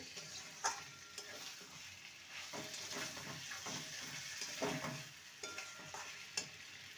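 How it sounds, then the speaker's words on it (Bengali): Washed jackfruit and soaked Gobindobhog rice stirred and sautéed in a pan, a spatula scraping in repeated strokes over a continuous quiet sizzle, with a few sharper knocks against the pan, no voices. "ভালো করে নেড়ে নেব এবং কষিয়েও নেব"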